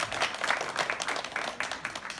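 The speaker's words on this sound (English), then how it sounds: "round of applause for Derek." An audience at a CREATV talk claps in a round of applause, a dense, moderately faint patter of many hands that goes on steadily for a couple of seconds with no one speaking.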